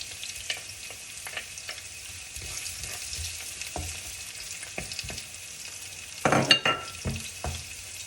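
Onion and garlic frying in cooking oil, a steady close sizzle broken by scattered stirring scrapes and clatters, with a louder burst of stirring near the end.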